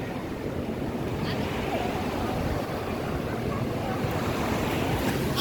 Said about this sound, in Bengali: সমুদ্র হলো এই যে পানির ঢেউ